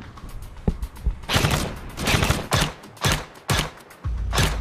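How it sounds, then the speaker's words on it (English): Gunfire in the PUBG battle royale game: repeated bursts of rapid shots, some close and loud, others in quick volleys, with short gaps between, over a dull background rumble. "Oh, they're shooting."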